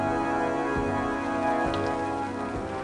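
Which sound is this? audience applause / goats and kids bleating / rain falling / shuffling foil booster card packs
rain falling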